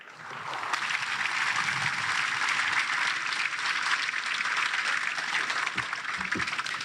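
Warm applause from an outdoor crowd at an Army base redesignation ceremony, steady and sustained for several seconds, with a few faint thumps near the end.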